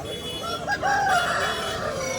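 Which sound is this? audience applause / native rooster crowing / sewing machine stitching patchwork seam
native rooster crowing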